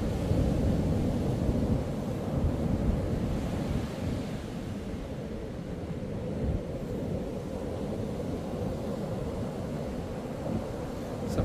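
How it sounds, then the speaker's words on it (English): Continuous roar of ocean surf washing over a shallow sandbar at a boat launch, dense and broadband with heavy wind buffeting the microphone, no voices. "Some 5 footers washing through over the sandbank with a lot of sand in there."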